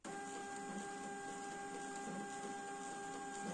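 An inkjet printer runs a job on tissue paper, giving a steady, faint mechanical whir with a constant tonal hum and soft feed noises, close by and uninterrupted.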